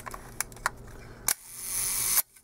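A 1952 Leica IIIf Red Dial rangefinder's shutter fires at its one-second slow speed: a crisp click, then a steady buzzing run of about a second, then a closing snap, with faint handling clicks before it. The sound is close and quiet, with no voice.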